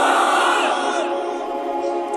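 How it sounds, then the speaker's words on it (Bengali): A crowd at an Islamic religious lecture shouting a loud unison chant of takbir, a single strong burst of many voices that fades slightly toward the end. "তাকবীর পড়েন, লিল্লাহি তাকবীর"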